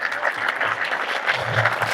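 An audience claps together in a hall, a dense crackling patter of many hands that pulses slightly in strength and continues steadily throughout.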